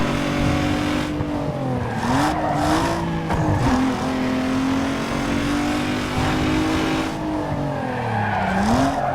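Racing cars roar in the video game Need For Speed Underground 2. Engines drone and rev steadily throughout, rising and falling in pitch, with brief tire-squeal and skid textures layered on top and no talking.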